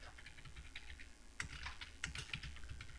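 Code being typed on a computer keyboard, a quick run of soft key clicks that bunches into faster bursts, faint and close, with no voices.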